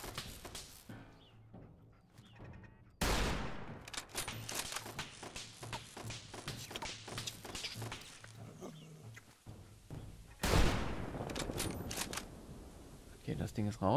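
Rapid bursts of gunfire in Fallout 4 crackle over a busy soundtrack, with a louder barrage near the end and a person talking intermittently in German.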